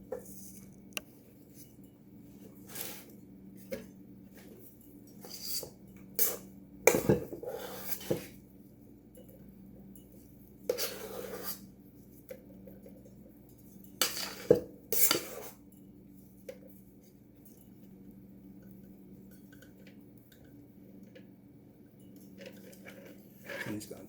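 A scraper and a flat spatula smooth a coating, making scattered light metallic scrapes and taps separated by quiet gaps, close and fairly soft.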